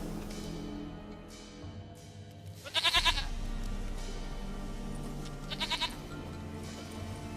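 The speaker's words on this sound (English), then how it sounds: "Goat of mine, dearest, sweetest goat." A goat in The Witcher 3 video game gives two bleats, one short and one longer, clear over steady in-game ambient music with no talk.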